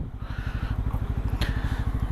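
A Bajaj Pulsar N250 motorcycle engine thrums during a ride, a steady, close low pulsing beat with faint wind noise over it.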